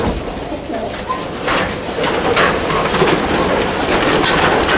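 A loft full of racing pigeons coos and rustles in a dense, continuous murmur. Overlapping soft calls rise now and then above the steady hum of the flock, and no one speaks.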